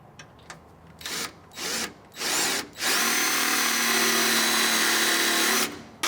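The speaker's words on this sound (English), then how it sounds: "marked the bolt locations with a small drill bit" A small drill bit marking bolt locations on a bracket during an Air Lift Load Lifter 5000 install on a 2014 Chevy Silverado 1500: a few short whirring bursts, then one steady sustained drilling run, close and loud.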